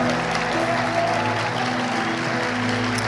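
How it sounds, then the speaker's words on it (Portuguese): A church congregation at a prayer-house conference applauding, a dense steady wash of clapping under a sustained musical tone, with faint voices mixed in. "eu queria que você desse um aplauso muito grande ao Senhor"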